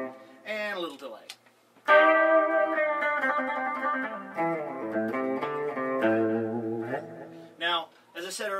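Clean electric guitar through an X-40 amp with a delay effect, notes ringing and repeating into each other as chords and melodic runs play continuously.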